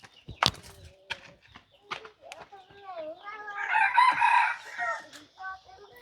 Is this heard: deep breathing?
no